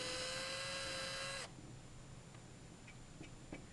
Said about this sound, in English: drilling down